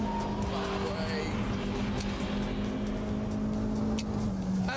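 A Mini Cooper on a race track, its engine holding a steady droning note that shifts pitch slightly as it is pushed through corners, heard from inside the car at a constant moderate level with no voices.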